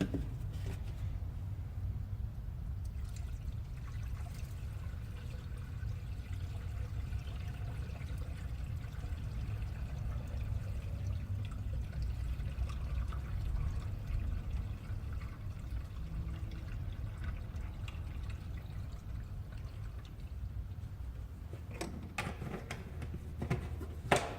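50/50 universal green coolant poured from a jug into a Chevrolet Silverado engine, a long low steady glugging flow close by, ending with a few knocks and clunks.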